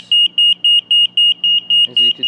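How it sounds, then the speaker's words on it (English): IoT smoke detector exposed to gas, sounding a loud, steady high-pitched alarm of rapid evenly spaced beeps close by, around 90 to 100 dB at about 30 centimeters, with brief voices in the background near the end. "So right now, we're exposing gas to the IoT smoke detector."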